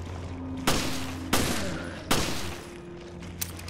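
Gunfire in the video game Resident Evil: Revelations, three loud, sharp shots spaced about a second apart with ringing decay, then a fainter click, over a low steady hum.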